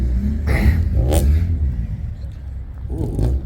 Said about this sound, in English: got some more cars pulling in